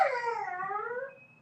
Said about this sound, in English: my dog apparently has a lot to say about it